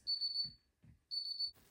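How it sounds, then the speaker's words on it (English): Kitchen timer alarm going off while noodles cook for vegan tofu ramen: two bursts of steady high electronic beeping with a gap between, each with a low knock or clatter underneath, loud and close. "That's the alarm for the noodles"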